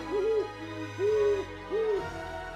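An owl gives three deep, drawn-out hoots at even intervals, clear and fairly close against a quiet background.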